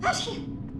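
A single sharp sneeze, close and fairly loud, bursting out at the start and trailing off within a second, with no talk over it.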